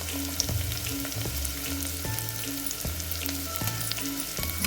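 Potato, carrot and beans frying in a pan for hotel-style upma, giving a steady close sizzle with occasional stirring scrapes and clinks throughout, no talking.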